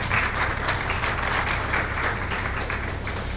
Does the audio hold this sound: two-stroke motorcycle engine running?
no